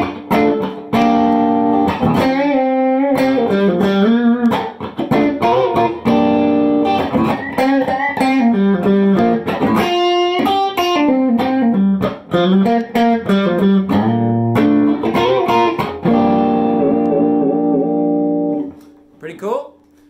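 Electric guitar played through an Analogman Tube Screamer overdrive pedal with volume all the way up, tone in the middle and drive all the way down, giving a loud, continuous blues-rock passage of chords and single notes that rings out at the end.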